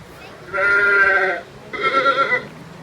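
Two drawn-out bleating calls, goat-like and wavering, sound close by with a short pause between them, from an animatronic dinosaur exhibit at a zoo.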